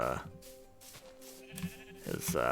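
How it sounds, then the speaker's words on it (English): A sheep in the video game Minecraft bleats in short, close calls at the start and again near the end, with quieter game sounds in between. "Maybe I go and I slaughter a sheep real quick and grab his fur."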